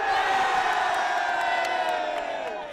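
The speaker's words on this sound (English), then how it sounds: "As you can hear, it's absolute pandemonium here at the King Power Stadium. I'm right bang in the middle of the crowd with fans" Leicester City football fans at King Power Stadium roar and whoop in a dense, continuous wall of cheering, heard from right in the middle of the crowd.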